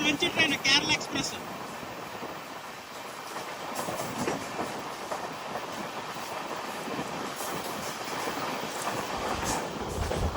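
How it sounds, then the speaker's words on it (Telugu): The Kerala Express, running from New Delhi to Thiruvananthapuram Central, rolls along the rails with a continuous rumbling clatter heard from on board, close and steady. "ఎంత మంచి ట్రైన్ అంటే అంత మంచి ట్రైన్ కేరళ ఎక్స్ప్రెస్"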